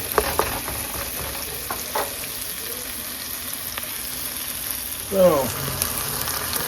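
Stuffed pepper filling of browned goodies fries in vegetable oil in a pan with a steady close sizzle, a few stirring scrapes and a brief clatter near the end, with a short spoken word at the start.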